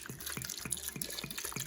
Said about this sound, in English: we're going to add the water to our chopped potatoes